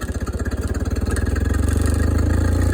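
A Cub Cadet Lo Boy 154 tractor engine idles low while rolling down a hill, a steady near, loud chugging pulse that quickens slightly and grows denser toward the end.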